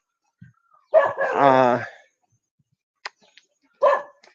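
A dog in Thailand lets out a drawn-out, howling bark close by, then a short pause, a couple of faint clicks and one more quick bark.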